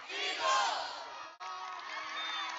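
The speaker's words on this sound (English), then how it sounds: "The Taft crowd is getting really loud here with their cheerleaders." Loud crowd cheering and shouting from Taft fans with their cheerleaders at a high school boys basketball game against Lane Tech, a sustained roar of many voices that dips briefly, then swells again.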